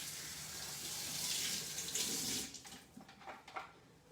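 Tap water runs steadily as a food processor lid is rinsed under it in a home kitchen, a loud continuous splashing rush that cuts off after a couple of seconds, leaving a few drips and small sink sounds.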